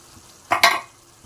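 A thick onion-tomato paste is stirred into a simmering mutton curry, giving two quick scraping, sizzling strokes in the pan, close and brief, with quiet around them.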